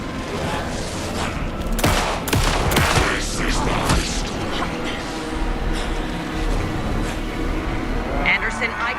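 Gunfire rattles in the video game Alan Wake II, bursts of shots and booms mixed with game effects while voices shout over the action, busy and loud throughout.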